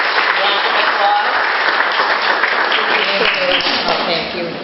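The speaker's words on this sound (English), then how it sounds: "Give her a big round of applause." A room of people at a volunteer appreciation luncheon claps steadily in a dense, sustained round of applause that stays loud and even, with a few voices faintly mixed in.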